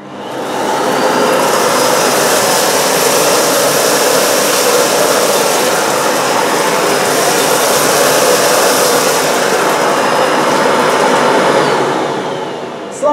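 A Miele Blizzard CX1 bagless vacuum cleaner with a Parquet Twister XL nozzle runs at full power on a hard floor. It spins up, holds a loud, steady roaring whine for about eleven seconds, then winds down, with no talk.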